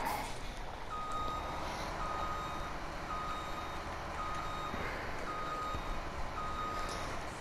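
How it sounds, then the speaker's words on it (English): Truck reversing alarm in Farming Simulator 17: a steady string of evenly spaced electronic beeps repeating at a regular pace over a constant low engine rumble, moderately near. "Beep, beep, beep, beep, beep."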